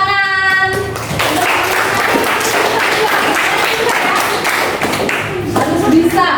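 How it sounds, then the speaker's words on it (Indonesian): Classroom of pupils clapping for their teacher, a dense burst of hand claps with scattered thumps and taps, close and loud, lasting the whole stretch. "Oke, beri tepuk tangan."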